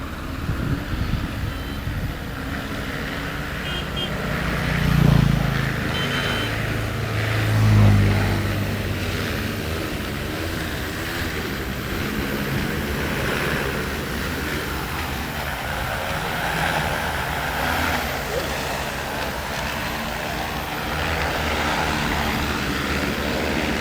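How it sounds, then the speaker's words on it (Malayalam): A large heavy-duty agricultural spraying drone flies back, its broadband rotor roar droning steadily throughout. It swells slightly in two brief moments and has no speech over it. "ആ ഡ്രോൺ തിരിച്ചു വരുന്നേ."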